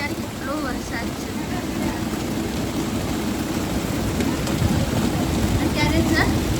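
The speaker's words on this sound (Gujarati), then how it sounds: "તમે જોઈ જ શકો છો વરસાદ અને પવન કેટલું બધું છે" Heavy rain and strong wind during a monsoon downpour on a darkened road, a dense, steady roar of rainfall and gusts filling the whole stretch at constant loudness.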